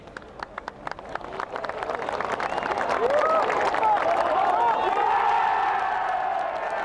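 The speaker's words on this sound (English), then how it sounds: "The biggest cheer of the day." Golf crowd at Royal St George's during The Open 2003 breaking into a huge cheer: scattered claps build after about a second into sustained roaring applause with whoops and shouts, loud and close, holding steady to the end.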